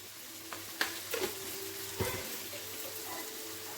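Tomato with salt, then spices, fries gently in oil in a pan for a Bengali fish curry, giving a soft, steady sizzle close by, with a few light clicks of a spoon stirring.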